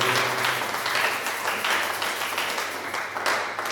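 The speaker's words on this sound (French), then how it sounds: "Acclamez pour la gloire de Dieu." Church congregation at a spiritual combat service with Bishop John Monga applauds and cheers for God's glory, a continuous, fairly loud roar of clapping and voices that swells slightly near the end.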